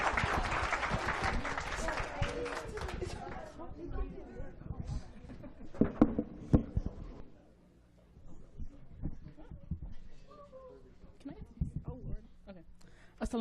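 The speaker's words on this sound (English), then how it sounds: "Everyone clap up." Audience at a mosque poetry night applauding and whooping, loud clapping at first that thins into scattered claps and murmuring voices, with people talking over the fading noise.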